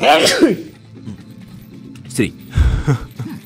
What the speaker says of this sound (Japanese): くしゃみ出ちゃった。